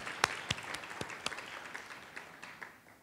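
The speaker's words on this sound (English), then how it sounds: "Let's clap for them." Scattered audience applause at a university presidential announcement ceremony, fairly faint and distant, with a few distinct claps standing out before it thins and dies away.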